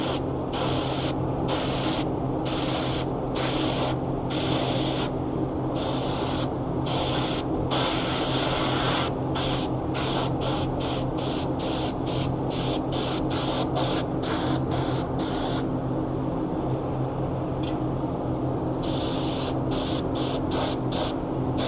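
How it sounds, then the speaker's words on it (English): A touch-up spray gun hisses steadily while applying Cerakote coating to a Harley XLCH piston and combustion chamber, with rapid, irregular on-off triggering as the spray cuts in and out over a constant compressor hum. "Like I said, it's a touch-up gun."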